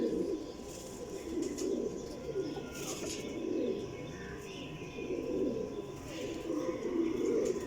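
Soft, low golden pigeon coos rise and fall in repeated murmuring phrases, with faint chirps and background rustle around them.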